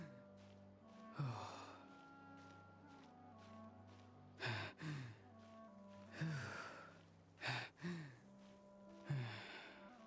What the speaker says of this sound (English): They are doing a lot more of the heavy breathing than normal.